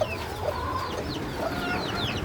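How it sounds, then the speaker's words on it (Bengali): A hen clucks steadily and close by as it is moved aside in a backyard where chicks are hatching, with a few sharper squawks over the continuous fowl chatter. "মুরগিটাকে আপাতত এখানে সরাই রাখতেছি এ নয়তো ডিস্টার্ব করবে"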